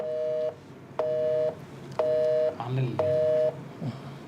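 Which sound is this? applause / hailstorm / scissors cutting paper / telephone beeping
telephone beeping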